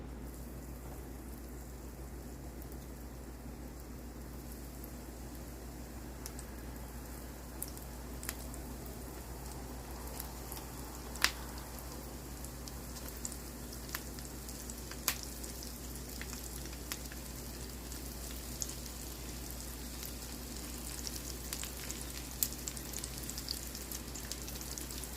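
Breaded onion petals coated in leftover jalapeno popper batter deep-frying in hot oil, a steady low bubbling hiss with scattered faint pops and crackles, close and continuous with no talking.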